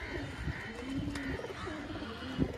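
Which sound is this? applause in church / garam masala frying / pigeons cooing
pigeons cooing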